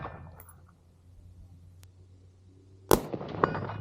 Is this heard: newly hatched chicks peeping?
no